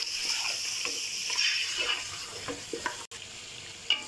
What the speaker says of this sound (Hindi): अब हम इसमें मसाले ऐड करेंगे अपने। और इसको अच्छी तरह से भूनेंगे।